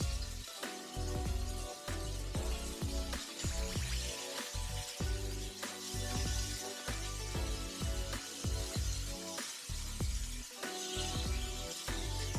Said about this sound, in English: Now these are going to go into a really hot cast iron skillet. So you want to sear them.